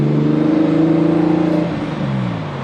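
A Porsche 996 flat-six fitted with muffler bypass pipes, revving loud and close with a smooth rising drone that drops away and settles, alone with no talk.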